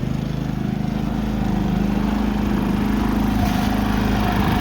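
A Predator 3500 inverter generator running on year-old gas, a steady close engine drone with an even pulsing hum that holds unchanged throughout, no voices.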